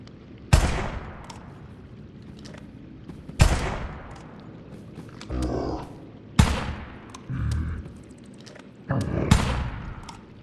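Four loud single gunshots spaced a few seconds apart in the pirate game Salt 2: Shores of Gold, each with a sharp crack and a long decaying echo, separated by grunts and thuds.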